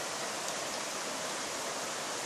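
A seasonal creek, usually dry, runs full with rainy-season water, a steady broadband rush of flowing water that holds an even level throughout, with no voices.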